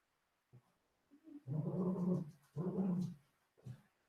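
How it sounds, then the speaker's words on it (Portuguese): An excited dog playing indoors, giving close, short growling barks and panting bursts in a quick uneven rhythm, with no one talking. "meu cachorro tá enlouquecido aqui, brincando"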